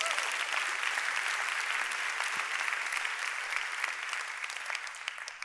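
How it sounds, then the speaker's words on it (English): Sustained applause from a summit audience at a talk, dense and steady clapping that fills the whole stretch, tapering slightly toward the end with no voices over it. "I'll let you clap there"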